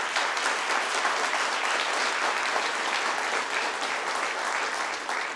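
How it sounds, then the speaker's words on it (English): An audience at a mayor's news conference in Erie applauds the city employees, continuous dense clapping that holds steady and fairly loud throughout. "I want to give them all a round of applause"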